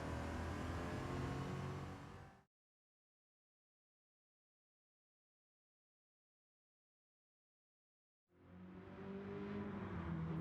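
A Ford GT40 Mark I from 1966 roars loudly under race tune in Gran Turismo 7. The engine sounds for about two seconds, cuts to total silence, then returns at full volume near the end.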